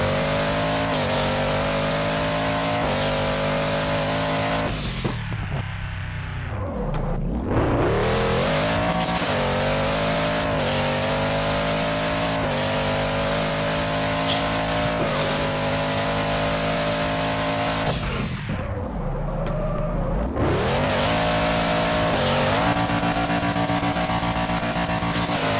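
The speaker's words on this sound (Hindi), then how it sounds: "इसका जो गियर चेंजिंग होती है वो बहुत ही ज़बरदस्त आवाज़ है जो गियर चेंज होता है इसके अंदर।" A video game car engine revs loudly and continuously, climbing in pitch through each gear, with two sharp gear changes where the note drops and briefly cuts before surging up again; no talking.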